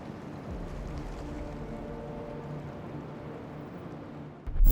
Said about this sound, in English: Live webcam, monster waves smashing the promenade.